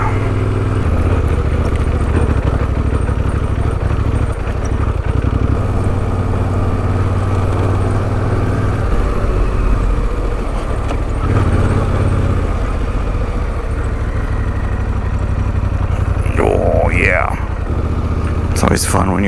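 Motorcycle engine chugging in first gear along a rocky Utah backcountry trail, a steady low rumble with wind buffeting throughout and brief bumps and rattles.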